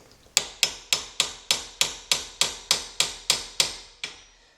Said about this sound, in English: Now I'm using a punch.